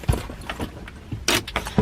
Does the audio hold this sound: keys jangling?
yes